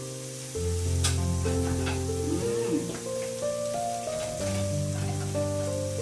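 Bitter gourd cooking without oil on a grill pan, with a soft, steady sizzle running throughout beneath a continuous tonal background of music.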